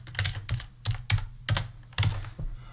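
Keystrokes on a computer keyboard clatter in short bursts with an uneven rhythm, close and fairly quiet, with a faint low hum underneath.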